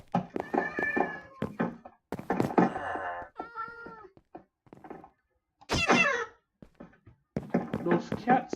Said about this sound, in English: Those cats can get annoying.